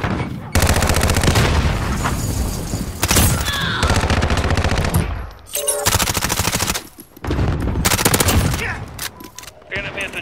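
Video game combat with a grenade explosion and gunfire: loud bursts of rapid automatic fire in several long volleys separated by brief pauses, close and harsh, with no clear separate blast standing out.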